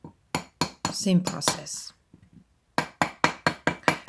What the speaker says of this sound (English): We'll flip the ring on the other side and hammer again.